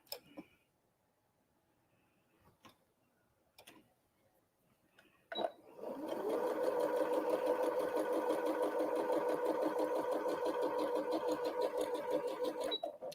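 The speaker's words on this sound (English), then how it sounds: "now I'm going to sew on that laser line right down the center" Sewing machine stitching along a laser guide line while piecing a barn star quilt block, starting after a few light clicks and running as a steady, close, continuous whir to the end.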